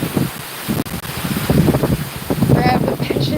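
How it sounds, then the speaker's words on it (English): Hurricane Helene winds roar and buffet the microphone in strong continuous gusts outdoors on a walk, loud and rumbling, with a person talking over the noise. "It takes more than 70 mile an hour wind to make me go a-flying."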